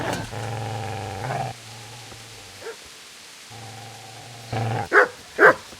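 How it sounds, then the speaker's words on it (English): Dog barks in the medieval role-playing game Kingdom Come: Deliverance: a few sharp, loud yelps near the end, after steady droning game sound earlier, with no talking. "Get away, you mutt!"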